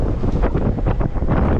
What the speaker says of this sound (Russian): Как обычно, встречный ветер дует нам.